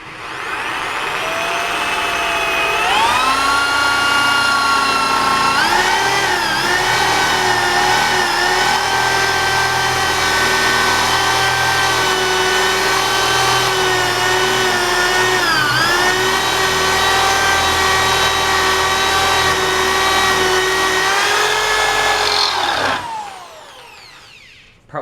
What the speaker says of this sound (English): Gently put the drill back in, push it near the bottom, pull back a little bit, start the drill going.